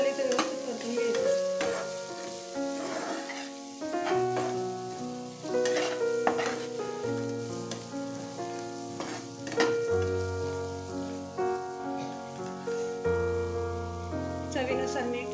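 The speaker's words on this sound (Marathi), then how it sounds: "बारीक कट केलेला आपलं टोमॅटो, मसाला पण आपल्याला इथे व्यवस्थित परतून घ्यायचा" Finely chopped tomato and masala sauté in a pan for egg bhurji, a steady soft sizzle with occasional stirring, heard under prominent background music.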